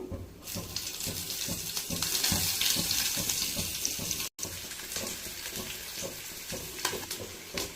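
Chopped onion frying in oil in a pan while making Maggi noodles, a steady hissing sizzle that holds loud and continuous, with occasional clinks and stirring scrapes, no talking.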